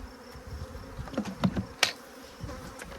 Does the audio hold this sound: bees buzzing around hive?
yes